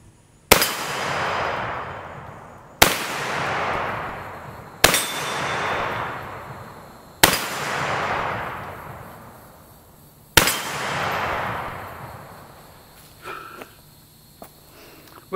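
A Ruger rifle fires five loud, separate shots at targets, each a sharp crack with a long rolling echo, spaced about two to three seconds apart, outdoors with no talking.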